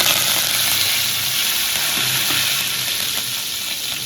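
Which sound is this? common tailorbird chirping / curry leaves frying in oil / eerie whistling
curry leaves frying in oil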